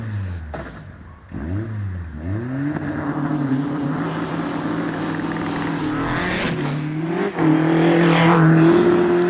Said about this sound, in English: Now we've got Craig Nichol in the Caterham.